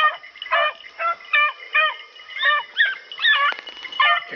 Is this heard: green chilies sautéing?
no